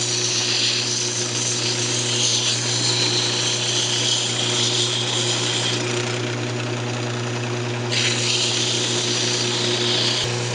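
Wood lathe spinning a wooden baby rattle while it is sanded: a steady low motor hum with a hissy abrasive rush on top that swells and fades, close and continuous.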